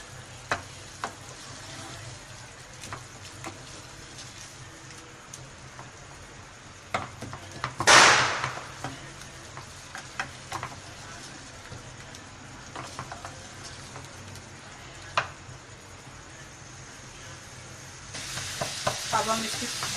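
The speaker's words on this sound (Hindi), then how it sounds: "अब हम इसकी बुनाई कर रहे हैं।" Softened tomatoes in a masala base for achari gosht being stir-fried over low heat, a quiet steady sizzle with a sharp scraping stir around the middle and faint clinks.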